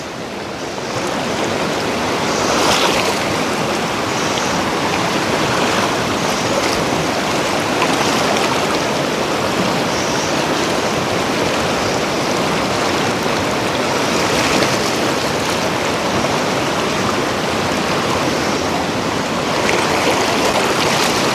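South Boulder Creek, a mountain creek, flows over rocks in a steady, loud, continuous rush of water that fills the whole scene with no other sounds.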